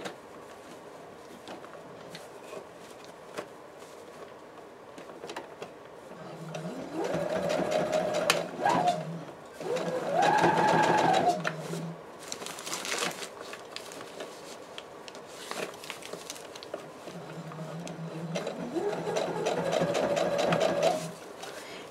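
A sewing machine set to a middle stitch at about 2.5 length stitches a seam on a fabric basket, running in two or three sustained bursts with a rising and falling motor whir and quiet pauses between.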